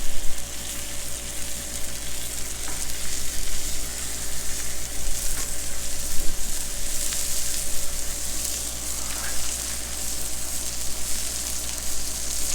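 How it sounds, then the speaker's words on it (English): Onions frying in bacon grease on a Blackstone griddle, a steady close sizzle with a constant low hum underneath and occasional faint scrapes, no talking. "now we're putting onions in the bacon grease"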